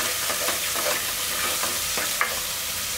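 Onion paste and ginger garlic paste fry in a pan for an egg curry, giving a steady close sizzle with a few soft stirring scrapes and one sharp tap near the end.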